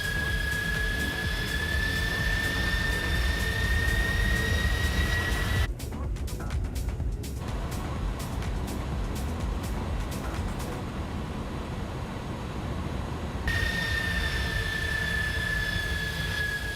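A jet airliner's engine roar steadies and then changes character as it touches down on a runway in Microsoft Flight Simulator, a continuous loud rumble and whine lasting throughout with no talking.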